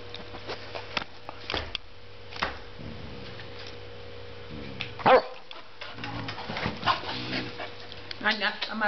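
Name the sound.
dogs barking and whimpering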